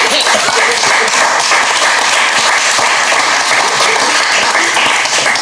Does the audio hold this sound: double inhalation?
no